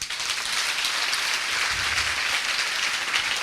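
Church congregation applauding after a sermon, a dense, even wash of many hands clapping that stays loud and steady from start to finish, with no speech over it.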